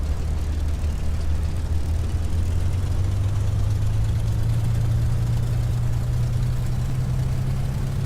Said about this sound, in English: Notice the engine RPMs increase.